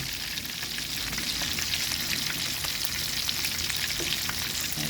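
Barracuda fish roe deep-frying while submerged in oil, giving a steady, dense crackling sizzle that stays close and even throughout, with no voices.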